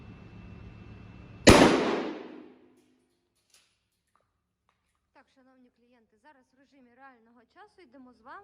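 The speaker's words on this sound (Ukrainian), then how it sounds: "стріляти будемо з відстані 20 метрів дріб'ю" One sharp, loud shotgun blast of birdshot fired at safety glasses from 20 metres rings out and quickly decays into quiet, followed later by a person speaking.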